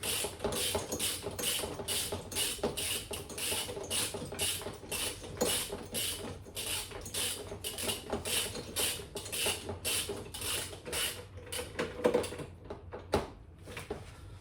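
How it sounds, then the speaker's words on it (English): A 19 mm socket wrench tightening a bolt on a BERG go-kart steering column, producing a long, fast, even series of ratcheting clicks up close, slowing and ending with a few heavier final turns. "And it's a 19 head, and again, this needs to be tightened firmly."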